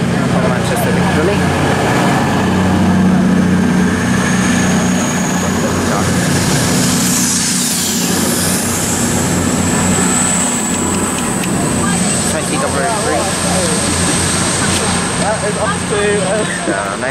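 Class 220 Voyager diesel unit departing Stafford station on the West Coast Main Line, a steady engine drone with a strong low hum and a high whine, loud and constant throughout, with people talking over it on the platform.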